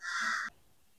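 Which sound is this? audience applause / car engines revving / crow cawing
crow cawing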